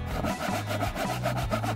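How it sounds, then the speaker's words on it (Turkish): Saw cutting through wood, a rhythmic rasping stroke repeated about four times in quick succession, close and fairly loud. "Testereyi deneyeceğim."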